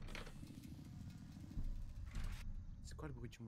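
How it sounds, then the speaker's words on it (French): Steady low engine rumble from a vehicle in The Texas Chain Saw Massacre video game, droning continuously and swelling slightly midway, with players talking over it. "C'est quoi le bruit du moteur là?"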